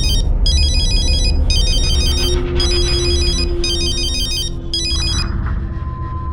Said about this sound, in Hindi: अब किसका फोन आया?